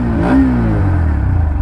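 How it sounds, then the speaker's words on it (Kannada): A 2024 Bajaj Pulsar NS125 motorcycle engine idles and is blipped once through its exhaust, a loud close rev that rises and falls back to a steady low idle. "ಎಕ್ಸಾಸ್ಟ್ ಈ ಥರ ಕೇಳಿಸುತ್ತೆ, ಎಂಜಿನ್ನ ಸೌಂಡ್ ಈ ಥರ ಕೇಳಿಸಿದೆ."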